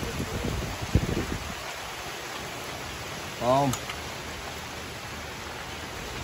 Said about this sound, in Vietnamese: Đang mưa luôn.